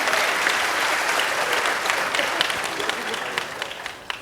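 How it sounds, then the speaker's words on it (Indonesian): An audience at a Sinau Bareng gathering with Cak Nun and KiaiKanjeng claps loudly and densely, a sustained wash of applause that slowly thins toward the end. "Tepuk tangan semua."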